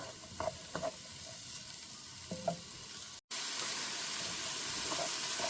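Onions sauté in a pan with a soft steady sizzle and a few light utensil clicks, then a brief cut after which the frying hiss returns louder and brighter.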